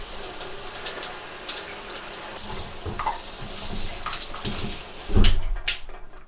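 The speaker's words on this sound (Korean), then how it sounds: "미온수로 가이드 위주로 저는 물 청소를 해줍니다." Lukewarm tap water splashes over the line guides of a fishing rod being rinsed with its rear cap open, a continuous close spattering flow with uneven surges and a heavier gush near the end.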